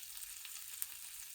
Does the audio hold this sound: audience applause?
no